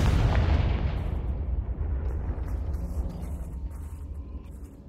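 A Confringo blasting curse detonates in Hogwarts Legacy, a loud booming explosion at the start that rumbles and slowly decays into a lingering low roar over several seconds.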